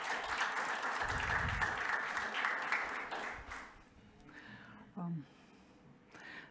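Audience at a conference on self-exclusion registers applauding as a speaker takes the stage: applause for about three seconds that fades, followed by a brief spoken greeting and some breathing.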